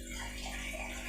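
Water pours from a jug into a pot, a faint, steady gurgling stream throughout, quiet and close.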